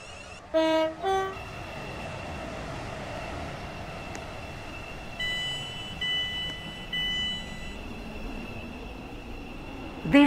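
A Class 350 train in a Roblox game arrives at a station, rumbling steadily, with a few bright chime-like tones near the start and short horn-like blasts partway through, ending with a louder clunk.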